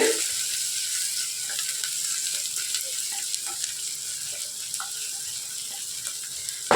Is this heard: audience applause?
no